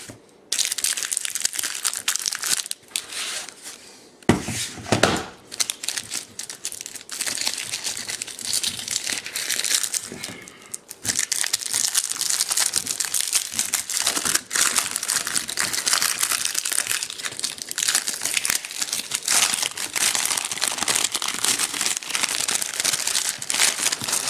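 Plastic screen protector for a metal detector being cut across the bottom, a long stretch of loud crinkling and crackling of stiff plastic, close and continuous with a brief pause partway through.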